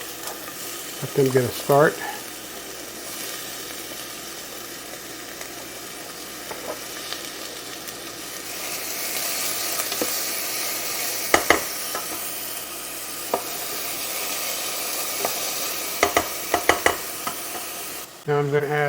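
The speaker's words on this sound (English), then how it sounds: "Now I'm going to add the onions." Chopped onions sizzle in warm oil in a pan, a steady broad hiss that swells and holds, with occasional stirring clicks and a brief spoken remark near the start.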